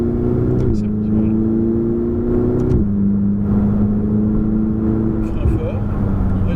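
A Ferrari engine accelerates through the gears, heard close from the cabin as a steady droning tone that climbs and drops in stepped shifts.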